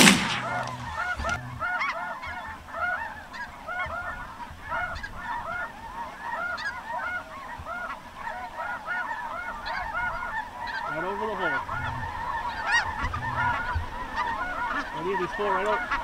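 Large flocks of geese honk continuously over a goose hunt spread with decoys, many overlapping calls near and far building in a dense, restless chorus for the whole stretch.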